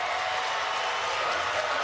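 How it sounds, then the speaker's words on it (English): A home crowd roars continuously at a college track and field relay, a dense, steady cheer and applause filling the stadium throughout. "Listen to that home crowd."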